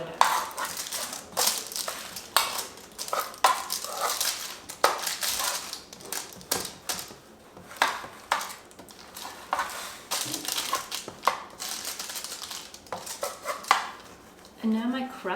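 A spoon's back spreads and presses a buttery date square crust into a pan, making irregular scraping strokes and light clinking taps that come and go in bursts.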